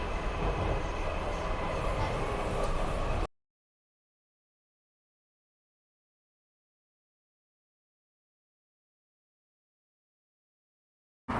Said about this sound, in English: we've just alighted the train at Royal Victoria from Beckton